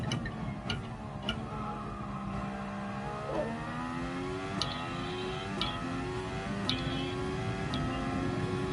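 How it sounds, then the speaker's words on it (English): A car engine in the racing game Gran Turismo Sport revs steadily, its pitch climbing and then dropping at gear changes, with sharp periodic ticks over a constant road and engine drone. "it just doesn't sound like a fast car"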